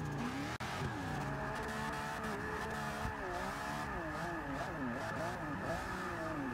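Drift cars enter a corner sideways at an ESDA round at Lime Rock, engines roaring continuously with wavering revs and tires skidding, loud and close, with a commentator talking over them.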